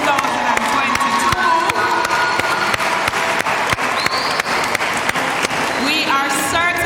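Loud crowd applause with cheering and shouts at a high school graduation ceremony honoring the graduating young ladies, sustained clapping from a large audience with some voices mixed in.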